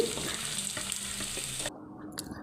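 Chopped onions drop into hot oil with whole garam masala spices for a beef brain curry, giving a steady close sizzle with light stirring scrapes before the frying quiets down.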